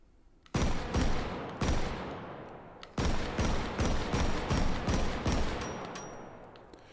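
A drum-fed Pancor Jackhammer shotgun fires in the VR game Hot Dogs Horseshoes & Hand Grenades: a sharp shot, a second one, then a fast run of roughly seven heavy booming blasts, each with a ringing tail, loud and close.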